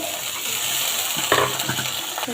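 Dried shrimp tossed into a hot pan, giving a steady low frying hiss with a burst of sizzle and stirring clatter midway, then scattered scrapes and taps close by.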